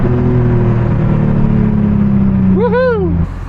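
A Chevy engine rumbles steadily and loudly, then its pitch sweeps upward in a brief rev after a downshift before dropping off.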